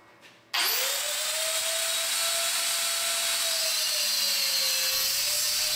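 A power tool whines up abruptly and holds a loud, steady high-pitched cutting drone, its pitch wavering slightly as it cuts metal pieces to length.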